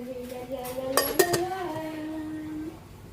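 A metal lid set onto a cooking pot of simmering beef nilaga with vegetables, a few sharp close clinks and a ringing metallic tone that fades out.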